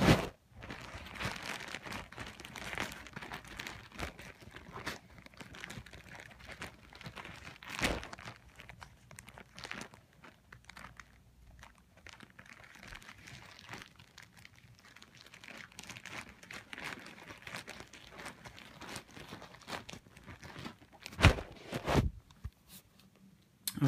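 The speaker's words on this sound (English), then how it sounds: "So I'm going to cut into it and see what we got here." A shipping package holding sports jerseys is cut open and unwrapped, giving steady close crinkling, rustling and tearing of packaging material with a few sharper rips and no speech.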